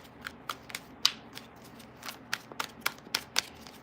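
Crisp papery flicks and riffles of tarot cards being shuffled, a quick burst of sharp snaps followed by several more spaced out, close and fairly quiet.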